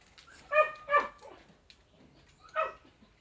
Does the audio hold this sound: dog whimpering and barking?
yes